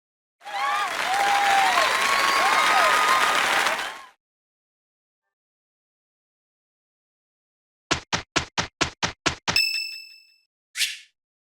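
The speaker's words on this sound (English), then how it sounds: "give a big round of applause for our talented participants" Audience applause for contest participants in the Fire Emblem Three Houses game, a loud burst of crowd clapping lasting several seconds, followed after a pause by a quick run of bright metallic dings and a final chime.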